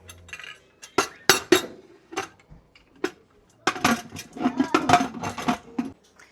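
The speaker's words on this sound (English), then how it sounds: "I'm going to go ahead and get the lid put on this" A metal lid is fitted onto a pressure canner, producing sharp clinks, knocks and scraping metallic clatter in irregular bursts, close up with quiet gaps between.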